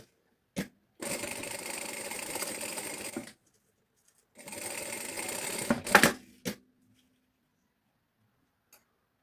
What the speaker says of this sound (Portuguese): Eu na minha máquina gosto de fazer o pesponto pelo lado direito